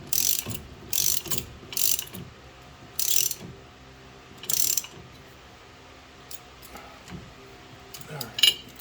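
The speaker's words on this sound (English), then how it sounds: "I'm going to get it started with the ratchet" Hand ratchet clicking on a 1974 Pontiac 455 Trans Am during fuel line and air cleaner work, several short bursts of rapid clicking separated by pauses, then quieter handling noises.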